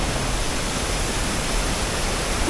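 A jungle waterfall near a creekside campsite at Thong Pha Phum roars as a dense, unbroken wash of falling water, loud and close, with no voices.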